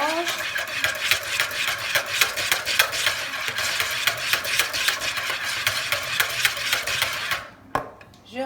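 Egg yolks being stirred in a bowl for a flourless yogurt cake, quick rhythmic clinks and scrapes of a utensil against the dish, close and busy, ending with a brief pause and a final knock.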